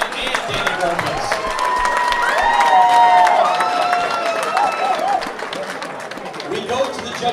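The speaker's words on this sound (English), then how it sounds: "I'm going to run the applause for both Nick Molina and Danny Robles" A crowd at a boxing match applauds and cheers at the close of the fight, a dense, fairly loud wash of clapping and voices that swells in the middle and holds steady throughout.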